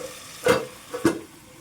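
Tandoori chicken frying over a high flame in a covered pan gives two short, close bursts of sizzle and clatter about half a second apart, with a quiet steady hiss between them and no voices.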